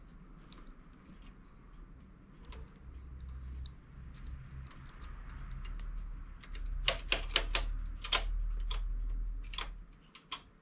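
A domestic knitting machine carriage knitting a front panel with held stitches: a few sparse clicks early, then a close burst of sharp rapid clacks near the end over a low steady hum.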